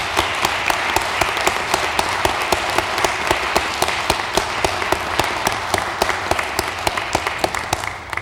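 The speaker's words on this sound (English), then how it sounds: "I'd like to have a round of applause for Peter Iudice and his staff" Steady applause from the room at a Milford Board of Aldermen meeting, many hands clapping densely and continuously for several seconds, near and loud.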